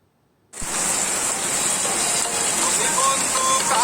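Rain falls outside as a steady, dense hiss that starts abruptly after a moment of near silence and then keeps a constant, moderately loud level, with no one talking.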